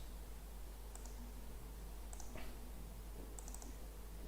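Soft, sparse keystrokes tap on a computer keyboard, a few scattered clicks over a faint steady hum, quiet and close with no talking.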